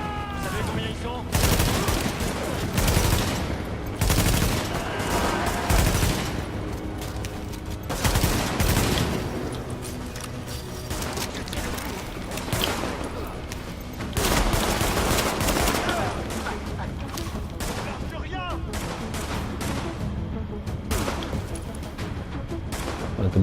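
Gunfire in the video game The Division: loud, repeated bursts of automatic weapon fire and sharp shots arrive in clustered volleys, with brief lulls between them and some voices faintly underneath.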